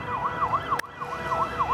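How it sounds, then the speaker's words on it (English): Fire truck and ambulance sirens wail at a busy roundabout in central Warsaw, a steady rising-and-falling siren with a sharp click partway through, moderately loud over low traffic rumble. "It's a fire truck, an ambulance, a car with a car with this."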